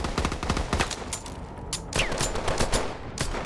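Gunfire in the video game Call of Duty: Advanced Warfare, rapid bursts of automatic shots and sharp single cracks in quick succession, fairly loud and continuous.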